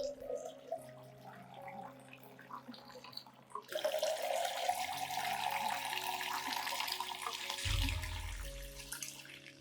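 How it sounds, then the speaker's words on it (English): Clean water poured into a beetroot solution, a steady splashing pour that starts partway through and continues loud and close, with faint background noise before it. "Add 1 liter of clean water to dilute the solution."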